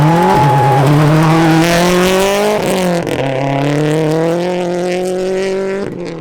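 A loud turbocharged race car engine revs and holds a high droning whine, shifting pitch a few times as it accelerates, close and continuous, at a motorsport festival.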